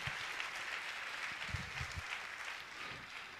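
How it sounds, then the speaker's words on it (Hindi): Audience applause at a religious gathering, steady dense clapping filling the whole stretch at moderate level, heard a little way off. "और मैं चाहूंगा सभी पुण्याजकों के लिए जोरदार ताली बजाकर इनका सम्मान करें।"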